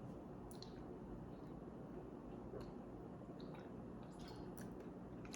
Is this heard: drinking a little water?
yes